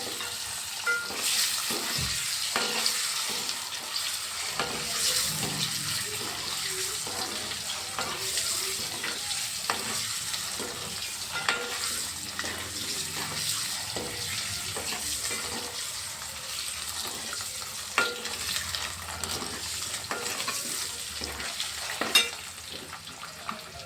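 Eggs fry and are stirred in a pan, a steady broadband sizzle running throughout with repeated scraping stir strokes and occasional clinks, close and continuous with no talk.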